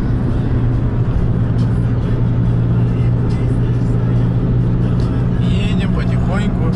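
A car cruises along a highway at an easy pace on the way to Volgograd, its steady engine and road rumble droning continuously close by, with occasional faint voices inside.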